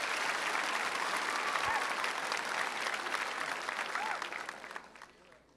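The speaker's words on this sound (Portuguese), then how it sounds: "Salve de palmas, Padre Joelson." Studio audience at a Brazilian Catholic television program claps in tribute to a priest, a thick, sustained round of applause that fades out in the final second.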